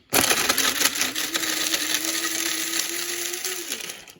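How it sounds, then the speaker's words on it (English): An electric spice grinder whirs close up as it grinds roasted chicory root, a loud steady buzzing motor with rattling pieces that runs about four seconds and then winds down. "Bring my grinder a little closer."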